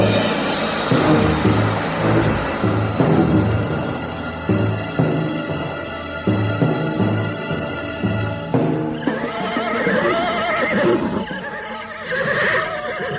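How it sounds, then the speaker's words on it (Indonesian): Horses with riders drawing near, loud whinnies and neighs repeating over a rumble of movement, with hooves faintly in the mix and no speech. "Sepertinya aku mendengar suara orang-orang berkuda menuju kemari."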